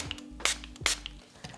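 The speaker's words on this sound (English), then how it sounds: "I'm now going to spray everything with some alcohol." Two short, close hissing sprays of alcohol from a pump bottle during a gel nail application, about half a second apart, followed by a faint third spritz, over quiet background.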